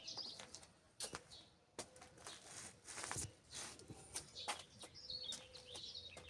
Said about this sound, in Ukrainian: Хочу, щоб ви насолодилися теж тим співом, солов'їним.